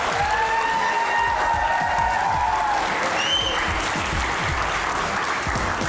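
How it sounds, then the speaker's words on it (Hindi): A studio audience on a Pakistani comedy talk show applauds steadily as guests are welcomed, dense clapping throughout with a few faint whistles. "तालियां बजती रहनी चाहिए।"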